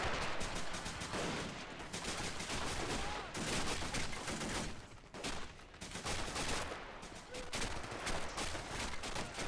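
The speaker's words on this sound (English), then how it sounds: "Light machine gun fire to the back like that." Light machine gun fire crackles in dense, near-continuous bursts amid a wider battle in the Men of War: The Pacific mod, storming Shuri Castle, with brief lulls between volleys.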